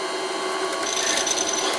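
An old wood lathe turns a metal workpiece at about 500 RPM, producing a continuous close scraping, rasping hiss with a steady underlying hum and a thin high whine emerging partway through.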